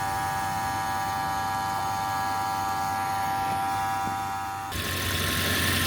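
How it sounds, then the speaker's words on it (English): A car's AC compressor runs with a steady mechanical hum and droning engine tone, unchanging for several seconds before a sudden shift near the end as something else kicks in. "I can still hear the AC compressor"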